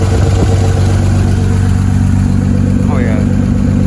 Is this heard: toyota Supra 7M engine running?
yes